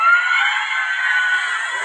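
Crowd of singles at a Thai concert shouting loudly in unison, a sustained high roar that fades slightly toward the end.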